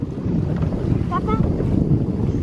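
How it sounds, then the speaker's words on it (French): Wind buffets a boat at sea off Corsica in summer, a loud continuous rumbling roar against the microphone, with a brief faint voice in the middle. "Il y a du vent."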